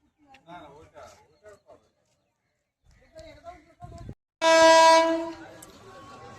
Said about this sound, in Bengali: আমার ট্রেন হচ্ছে ঢুকে গেছে